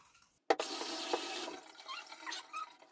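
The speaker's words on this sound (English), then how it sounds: "I'm just going to rinse it off" A humidifier part being rinsed under running water: a sudden gush starts after a short silence, then splashing and trickling that fades and sputters, close and fairly quiet.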